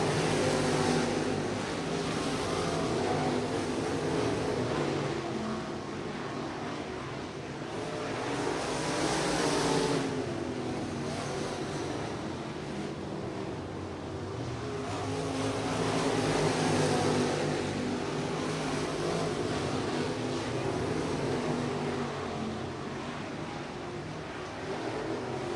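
Late model race cars roar past at I-37 Speedway, engine noise swelling and fading in repeated waves as the pack circles the track, loud and steady with no clear talk.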